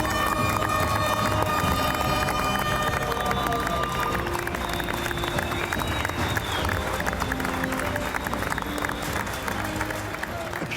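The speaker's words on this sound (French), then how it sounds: "Applaudissez-vous!" Audience applause from a crowd at a farewell event at Fort Boyard, a dense, steady wash of clapping filling the whole stretch with music-like tones and talk mixed in beneath.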